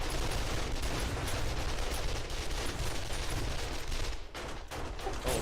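Heavy gunfire in the survival game 7 Days to Die, a dense, continuous roar of overlapping shotgun and other shots, fairly faint and unbroken, briefly dipping near the end.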